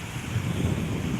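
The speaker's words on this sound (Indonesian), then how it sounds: "Udaranya sejuk, semburan" Ocean waves and a cool sea breeze at Pantai Kasih beach in Sabang, a steady loud wash of surf with wind buffeting the microphone throughout, no voices.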